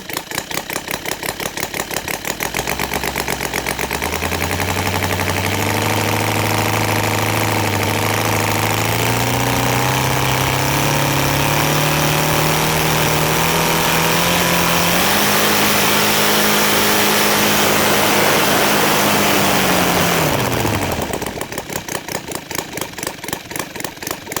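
A Saito 450 model airplane engine, converted to run on gasoline with CH ignition, idles while the plane taxis, then revs up into a loud, rising buzz. The buzz holds for several seconds before dropping back to a rough idle.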